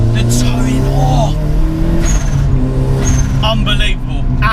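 A turbocharged Mazda MX5 driving hard on boost along a country road, its engine droning loud and close while the rear end squirms, with someone talking over the steady engine note.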